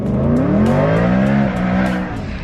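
A supercharged BMW M3 accelerating hard, its loud engine note rising steadily in pitch with a continuous roar and supercharger whine, close and dominant throughout with no talk.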